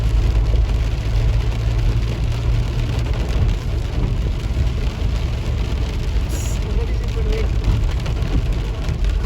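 Heavy rain pours in Dubai, a dense continuous hiss of rain on surfaces with a low rumble of passing cars on wet roads, loud and steady throughout.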